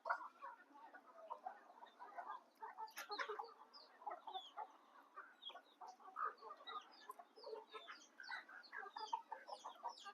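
Busy, continuous clucking and soft peeping from a country-breed hen with seven or eight chicks, many short calls overlapping at moderate loudness with no talk.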